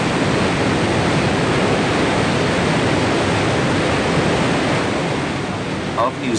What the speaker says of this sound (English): When the spillway is opened wide, water thunders down at the rate of 22 million gallons a minute.